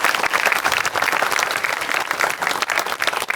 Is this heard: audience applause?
yes